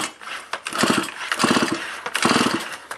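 A small engine is pulled over by its recoil starter, giving a few loud rhythmic bursts of cranking as the engine turns over, close by, with no talk.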